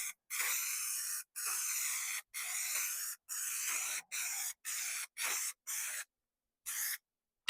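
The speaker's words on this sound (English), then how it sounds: "So we're going to spray the metal side" A series of short aerosol spray bursts onto a metal aircraft interior panel, about ten in a row with brief pauses between them, close and hissy, with no talking.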